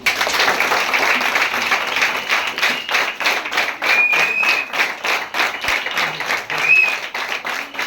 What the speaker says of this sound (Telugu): సో మనం దాంట్లో ఉన్నందుకు మరొకసారి గట్టిగా క్లాప్స్.